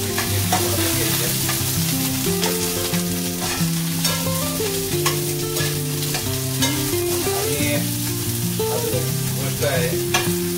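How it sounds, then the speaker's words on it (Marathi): Green chilies roast in a hot pan for a Maharashtrian thecha, giving a steady loud sizzle and frying crackle with stirring scrapes throughout and no talk. "मिरच्या आता छानपैकी भाजून झालेल्या तेव्हा थोडंसं काळजी घ्यायची, कारण मिरच्या उडतात, बिया उडतात."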